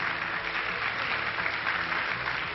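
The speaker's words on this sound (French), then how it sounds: "Et vous pouvez applaudir le créateur des voitures dont nous vous parlons depuis tout à l'heure" Audience applause for the designer of the Renault 8 at a car gathering, a steady, even wash of clapping heard somewhat distantly with no talk over it.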